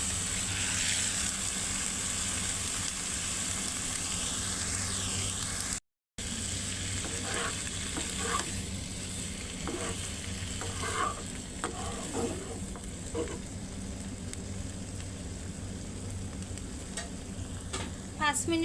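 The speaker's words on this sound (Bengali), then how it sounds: "এখন দিয়ে দেব মুগ ডাল আর কুমড়া।" Mung dal and pumpkin frying in a pan with steady sizzling and scraping stirring strokes, close and continuous, with a brief cut of silence early on.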